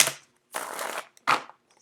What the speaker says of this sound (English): let me get the cards cleared up and shuffled